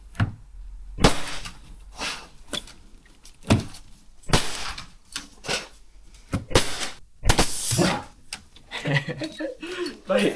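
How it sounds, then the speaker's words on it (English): Hammer blows drive nails through timber architrave into a door jamb, sharp irregular knocks spread across the stretch at close range, with a busier run of taps toward the end and low workshop noise between strikes. "I'm just going to get the nails into the door jamb for now"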